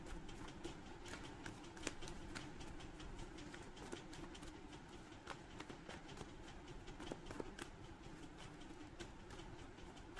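A deck of tarot cards is shuffled close up, giving a continuous soft riffling and sliding rustle for about ten seconds with scattered sharper flicks, quiet overall and with no talking.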